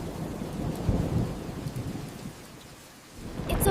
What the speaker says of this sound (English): The storm is passing now.